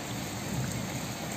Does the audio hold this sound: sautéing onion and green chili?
no